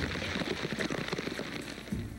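Rain falling steadily during a kayak expedition on the Amazon, a dense continuous patter of drops spread evenly across the whole stretch, fairly loud and close with no talking.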